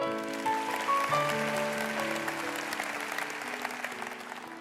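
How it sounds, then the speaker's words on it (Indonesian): Church congregation applauding during an Indonesian sermon, a steady spread of clapping over sustained musical keyboard tones that fades slightly toward the end. "Kasih tepuk tangan untuk Tuhan"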